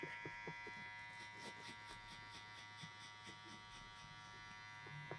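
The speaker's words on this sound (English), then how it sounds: "So we're gonna start off with the clipper open, about an inch." A JRL hair clipper fitted with a wedge blade runs steadily, cutting hair during a high taper haircut, its close electric buzz continuous with faint clicks and rustles of the cut throughout.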